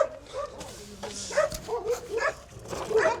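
Dogs bark and yip in short, irregular bursts at moderate distance, with some whimpering between barks.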